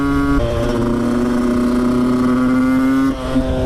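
A two-stroke 125 motorcycle engine drones at a steady, buzzing idle close by, its pitch holding level before dropping briefly near the end.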